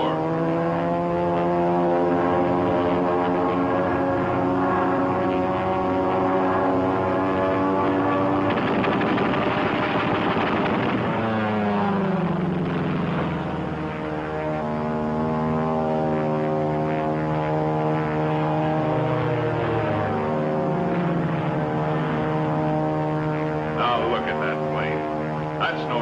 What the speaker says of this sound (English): That's a P-40.